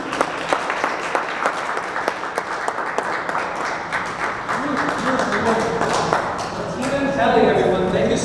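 An audience at a poetry festival reading applauds after a poem, a steady patter of many hands clapping mixed with cheering voices, continuing as talking rises over it toward the end.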